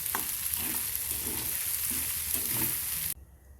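Vegetable bhaji made with bajra vadya is sautéed in a pan, giving a loud, steady sizzle with rhythmic stirring scrapes, then cutting off abruptly to near quiet at the end.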